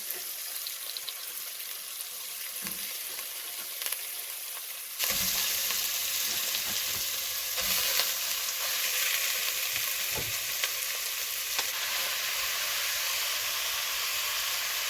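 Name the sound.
chunks of beef and pork searing in a pan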